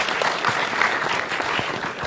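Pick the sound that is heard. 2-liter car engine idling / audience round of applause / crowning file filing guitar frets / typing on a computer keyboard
audience round of applause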